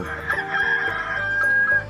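A rooster crows in one long drawn-out call, loud and close, with a sustained ringing tone and no talking.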